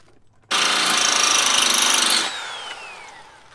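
A power drill whines loudly and steadily for a couple of seconds while drilling holes in metal with a dull bit, then winds down as the motor spins to a stop.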